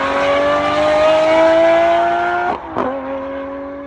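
Lamborghini Murcielago V12 engine and stock exhaust, a steady loud droning tone slowly rising in pitch, briefly cut by a dip and a quick blip before settling lower, with no talking.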